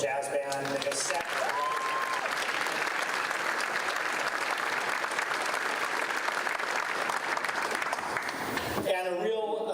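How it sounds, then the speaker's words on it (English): An audience at the Duluth State of the City Address gives sustained, loud applause for a high school jazz band, a dense, steady roar of clapping that stops abruptly near the end. "another round of applause for Mr. Lehigh and the Denfeld Jazz Band"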